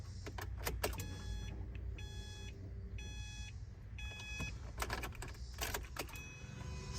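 A 2013 Subaru WRX with an aftermarket fuel pressure regulator has its ignition switched on and off several times, setting off repeated chimes and beeps and clicking relays over a steady low hum.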